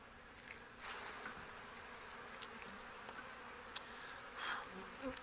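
Angry honey bees buzz in a continuous, fairly faint drone around an opened backyard hive, with a few sharper passes as individual bees fly close.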